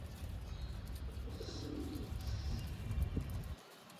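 Two pale green Madras pigeons give low, throaty coos that roll on under a constant rumbling background before it all cuts off abruptly near the end, with no talking.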